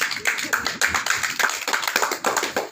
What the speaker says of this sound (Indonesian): Tepuk tangan untuk Felisa.